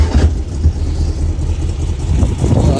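A 1970 VW Bug engine runs with its throttle cable disconnected, a steady low rumble holding near idle with slight surges in pace, loud and close throughout.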